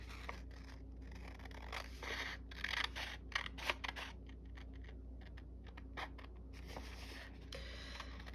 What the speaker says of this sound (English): Let's cut this one out because I like this one a lot.